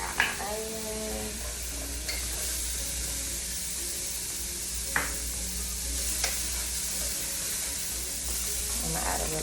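Onions sizzling in hot butter in a pan for a coconut chickpea curry, a steady close frying hiss with a few sharp clicks and stirring knocks, no talking.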